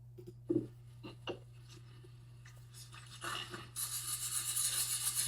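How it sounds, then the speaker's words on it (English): Soft brush scrubbing lint and dust off disassembled space heater parts, a few scattered brushing strokes that swell into continuous, louder bristly rubbing toward the end, close by with no talking. "Just going to give it a once over with a soft brush to clean off what the blower missed."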